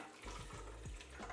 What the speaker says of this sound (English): We are going to put some water now, because I know that the meat is not fully cooked yet.